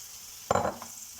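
Courgettes tipped into a pan of half-cooked butternut squash give a sudden close burst of sizzle and clatter midway, then fade back to a quiet fry.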